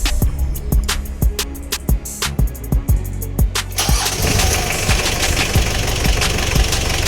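A Mitsubishi Delica L300 van engine cranks with a quick series of rhythmic pulses, then catches and settles into a steady, loud, close idle rumble.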